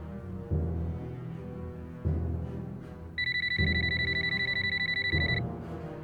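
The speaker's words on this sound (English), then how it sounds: "This is Veronica's phone. Please leave a message." A phone rings with a steady, repeating electronic ring, about four bursts at regular two-second spacing with a sustained high tone near the end, heard alone and fairly close before a voicemail greeting begins.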